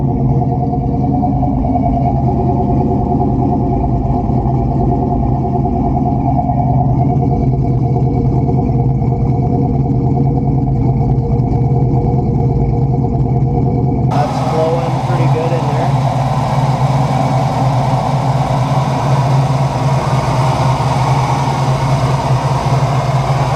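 A 1969 Buick Special Deluxe engine idles steadily with a deep, even rumble, louder and brighter after a sudden shift midway, continuing throughout.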